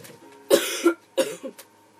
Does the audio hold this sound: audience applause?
no